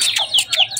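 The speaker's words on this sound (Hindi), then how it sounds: "दो चूजे अंदर हैं, जाओ लेके आओ वो देखें" Two chicks at a zoo peep in quick, high, shrill chirps, several calls in under a second with no voices over them.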